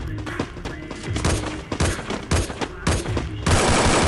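Rapid bursts of gunfire in a shooting video game crackle in quick succession, loud and sharp, with short pauses between volleys and a sustained burst at the end.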